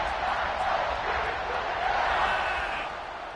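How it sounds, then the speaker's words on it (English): Stadium crowd roaring in a college football video game between Texas A&M and Ohio State, a steady dense cheer filling the whole stretch and easing slightly near the end, with no commentary over it. "this crowd is feeling themselves after that last drive"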